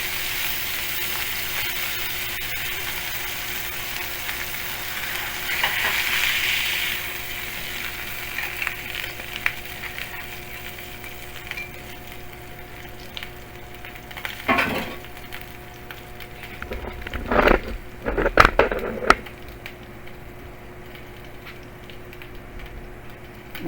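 A burger patty frying in a pan with a steady sizzle throughout, interrupted by a few clinks and scrapes of a utensil against the pan.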